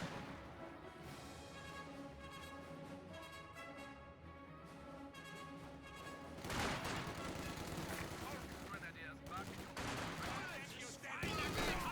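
MG42 machine gun fire in Company of Heroes 2 crackles in rapid bursts amid battlefield gunfire and explosions, loud and dense in the second half, with a commentator talking throughout.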